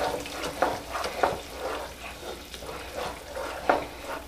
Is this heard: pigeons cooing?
no